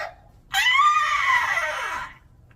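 A human voice imitates a screeching bat with one long, high, wavering shriek that lasts about a second and a half and then trails off.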